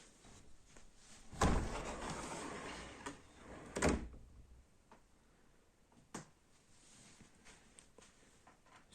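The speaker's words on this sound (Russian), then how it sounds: "Сделал вот такую дверь, которая прячется в стене." A pocket sliding door that hides into the wall of a renovated one-room Khrushchyovka flat is moved: two fairly loud rolling slides, each a second or two long, then a few faint knocks and clicks in a quiet room.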